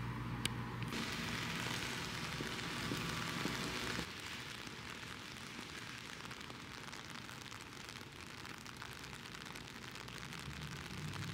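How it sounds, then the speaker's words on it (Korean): Steady rain falling outdoors in New York, a dense continuous hiss of drops on surfaces with no talk, its texture shifting slightly partway through. "오늘 뭔가 밖에 비가 와서"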